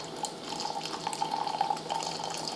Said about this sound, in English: I'm going to pour the water in there.